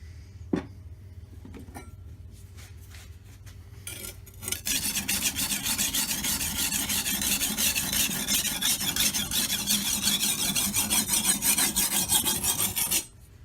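A steel 8670M brush knife is sharpened on a coarse double-sided oil stone with 3-in-1 oil. A few faint scrapes come first, then a steady, close, gritty rasping of rapid strokes runs unbroken for about nine seconds.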